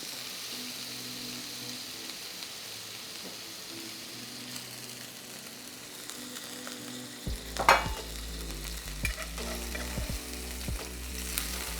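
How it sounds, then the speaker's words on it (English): Burger meat on a tortilla, pressed face down into a ghee-coated iron skillet, sizzles steadily throughout. The frying grows louder partway through as the press comes down, and a few scrapes and knocks sound over it. "you take the burger meat that's on the tortilla and you're gonna put it face down on the iron skillet."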